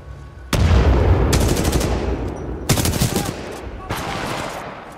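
Titanfall 2 gunfire: loud, close bursts of rapid automatic shots in several separate volleys, sharp and crackling, with brief pauses between bursts.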